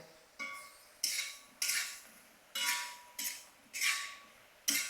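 A metal spoon scrapes through red masala with turmeric in a cooking pan. About seven sharp, rhythmic stirring strokes sound up close, with short gaps between them and no talking.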